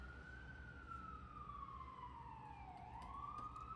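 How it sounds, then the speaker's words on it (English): A wailing siren sweeps slowly down in pitch and rises again, steady and fairly faint over a low background rumble. "Sorry about the siren, guys."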